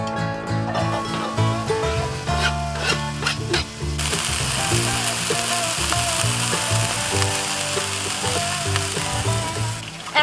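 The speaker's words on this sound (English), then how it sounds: "start to brown the onion in the hot skillet with just a little bit of olive oil" Onion browning in a little olive oil in a hot non-stick skillet, a steady continuous sizzle close up, running under loud background music throughout.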